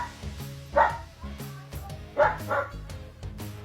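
A dog barks a few times, short woofs spaced apart, with faint background noise and occasional low sounds in between.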